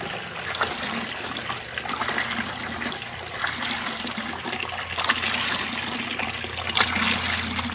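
Water flowing through a Guzzler hand pump and filter system into a 5-gallon bucket, a steady, fairly loud rushing gush that holds continuously with slight surges.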